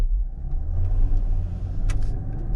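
A 2020 Chrysler Pacifica Limited minivan pulls away after its engine auto stop, with a steady, close, low engine rumble throughout and a brief brighter hiss near the end.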